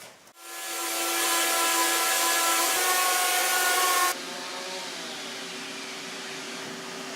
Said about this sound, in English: Now I'm going to use the sander to help round over and smooth out these edges